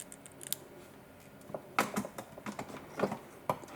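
Trimming the wire on a wire-wrapped raw crystal shard pendant, heard as several small, sharp snips and ticks close by against a quiet background.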